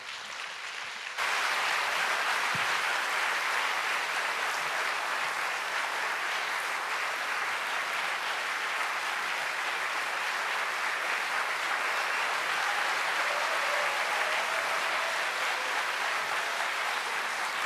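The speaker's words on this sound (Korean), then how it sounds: "여러분 큰 박수로 목사님 맞이해 주십시오." A large congregation at a joint church worship service breaks into loud, steady applause welcoming the pastor, a dense sustained clapping that starts abruptly and continues without pause.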